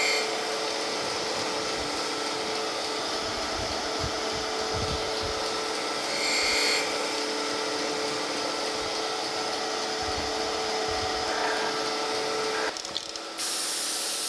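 Steady broadband machining noise from milling and grinding a metal casting, a continuous hiss and whir with faint low rumbles, ending in a brief louder burst.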